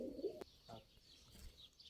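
Tumbler pigeons coo softly in a couple of low, brief calls, faint and distant in a quiet setting.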